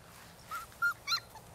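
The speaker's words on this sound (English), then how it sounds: "Okay, puppies." Four-week-old puppies whimper in three brief, soft high-pitched squeaks in quick succession, close by over quiet background.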